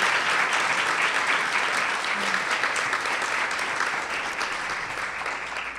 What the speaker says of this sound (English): I'd like all of you to please join us in giving a round of applause to Sandra Cisneros.